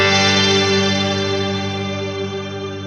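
A Mr. Black Eterna shimmer reverb pedal gives off a loud, sustained wash of layered, choir-like tones that hold steady and slowly thin out, heard alone.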